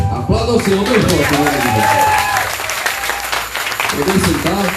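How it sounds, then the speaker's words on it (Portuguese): Church congregation clapping for the Lord during a worship service, a steady dense wash of applause with a preacher's voice and sung or shouted phrases over it, close and loud. "Aplauda o Senhor, meu irmão."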